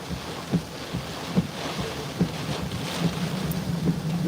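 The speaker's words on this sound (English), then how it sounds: "It's a pretty good wind gust." Gusting hurricane wind roaring across open Tampa Bay waterfront, a constant rushing bed broken by several sharp blasts buffeting the microphone, with no talk.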